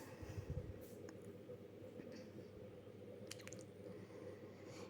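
Washed prawns being mixed by hand with salt, turmeric and Kashmiri red chili powder, soft wet squishing and smacking sounds, close and quiet over a steady background hum.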